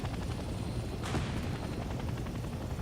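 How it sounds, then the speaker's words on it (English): Rotor chop of a helicopter circling overhead in Hell Let Loose Vietnam, a constant low throbbing drone with a short burst of distant gunfire midway. "Helicopter keeps going around."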